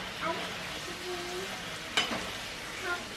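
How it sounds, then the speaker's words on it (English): Ackee and saltfish fried in a pan and stirred with a utensil, a steady close sizzle with soft scraping strokes and one sharp clink partway through, no talk over it. "Mix the saltfish into the ackee into the saltfish."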